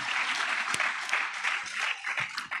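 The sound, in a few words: audience clapping at graduation celebration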